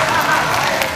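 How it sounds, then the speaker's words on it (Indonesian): Dense crowd applause and cheering at a televised 2019 Indonesian presidential and vice-presidential final debate, a continuous loud roar of clapping with no break. "memberikan tepuk tangan yang paling meriah untuk kedua pasangan"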